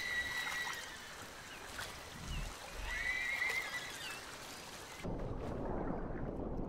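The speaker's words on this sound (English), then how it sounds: "Sounds like a horse." A horse whinnies a few times at a distance, high wavering calls over steady background noise, followed by a low rumble near the end.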